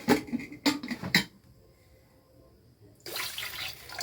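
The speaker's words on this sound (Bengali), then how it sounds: "আর একটু জল দিয়ে দিচ্ছি আমি এটার মধ্যে" Water poured into a pot of urad dal khichuri; a few short splashy bursts, a quiet pause, then a steady, louder stream of pouring close by.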